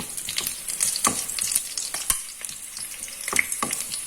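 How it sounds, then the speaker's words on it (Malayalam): Pieces sizzle steadily in hot oil while frying for Kerala-style chicken molee, a close, continuous crackle broken by occasional spatters and the light scrape of stirring. "ഇത് മൂത്ത് വരട്ടെ. ഒന്ന് മറിച്ചിടാം."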